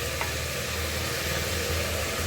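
Marinated meat goes into a large frying pan of golden fried onions, producing a dense, even sizzle that holds steady throughout the brief moment.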